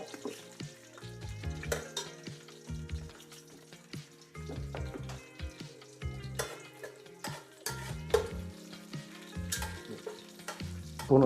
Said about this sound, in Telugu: ఇప్పుడు పులావాకి పోపు వేస్తే బాగుంటుంది